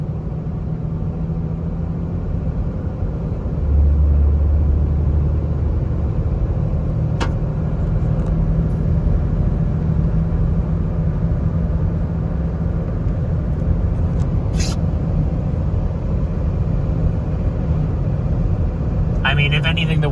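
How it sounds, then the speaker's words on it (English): Road noise from Falken Wildpeak R/T tires at 55 mph, a steady low rumble with wind hiss inside the cab, constant and unbroken apart from a couple of faint ticks. "Let's see what the tires sound like."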